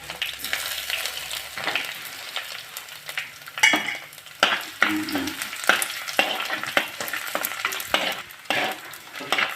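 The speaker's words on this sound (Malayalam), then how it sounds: "ഒന്ന് ചെറുതായിട്ട് മൂത്ത് വന്നോടം വരെ ഒന്ന് ഇളക്കി കൊടുത്തു" Ginger and garlic frying in oil with fenugreek, dried red chillies and curry leaves for a Kerala fish curry, with steady bright sizzling and repeated scraping stirs of a spoon against the pan throughout.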